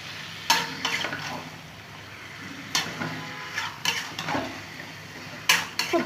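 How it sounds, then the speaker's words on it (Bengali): Chicken and potatoes being sautéed in a pan, with intermittent scraping and clanking of a spoon stirring against the metal at irregular intervals over a soft, low background sizzle, close by and without speech. "কষানোর সময় খুব ভালো করে কষিয়ে নেবে"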